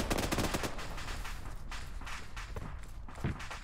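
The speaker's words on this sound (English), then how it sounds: "We're taking accurate fire from the northwest." Rapid gunfire in the military video game ARMA 3, dense bursts of automatic shots crackling continuously and loudly, with a few heavier thumps toward the end.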